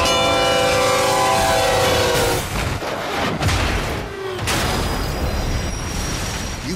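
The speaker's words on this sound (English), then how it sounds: "on the tracks, we have Bull, a million-pound freight train that takes a mile to stop" A million-pound freight train on the tracks sounds a long, loud horn blast over a heavy rumbling roar, followed by booming rail noise as it passes close by, with no talking.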